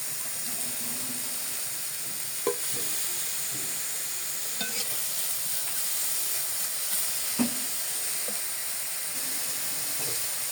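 Onions and green chilies frying lightly in a pan; a steady soft sizzle and hiss continues throughout, with occasional faint clinks and stirring knocks from utensils.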